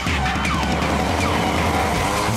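Go-karts racing on a track produce a steady, loud roar of engines and tire noise, continuous and dense with no gaps and no voices.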